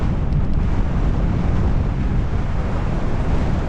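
Strong wind buffeting a microphone on a coastal path near Bude, a loud continuous low roar and rumble with no pauses, close and steady throughout.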